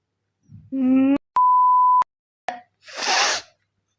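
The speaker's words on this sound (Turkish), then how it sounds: "Buraları bipleyeceğiz." A single flat electronic censor beep, about half a second long, cutting between a short voiced sound and a breathy burst, during play of the game Supreme Duelist Stickman.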